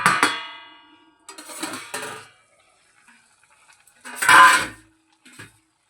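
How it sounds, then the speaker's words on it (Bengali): A metal lid clanks and scrapes as it is lifted off a pot of simmering neem jhol curry with lentil dumplings, a few sharp close knocks separated by near silence. "এবারে আমরা ঢাকাটা খুলে নেব।"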